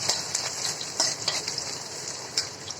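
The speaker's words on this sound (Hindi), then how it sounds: "अब ये मैंने प्याज डाल दिए इसमें। अब हम प्याज को भी भून लेंगे।" Onions frying in a pan with cumin, giving a steady, close sizzle with soft stirring scrapes over it and no talk.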